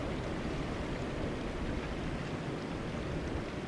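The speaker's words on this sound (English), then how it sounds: "even hear the sound of the Wapoma Falls across the reservoir" Steady broadband rush of Wapoma Falls carrying across the reservoir, a continuous even roar with no talking over it.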